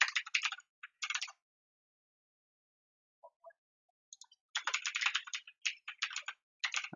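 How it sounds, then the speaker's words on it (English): Someone typing on a computer keyboard in bursts of quick, close key clicks, with silent gaps between the runs and a few isolated taps. "Typing things like that are always really weird for me."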